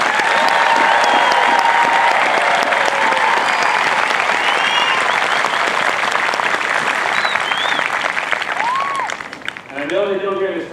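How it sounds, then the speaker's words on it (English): A large crowd applauds at an Air Force Basic Military Training graduation parade, with loud, sustained clapping that tapers off near the end, where a voice is briefly heard. "Please, let's give them all a round of applause."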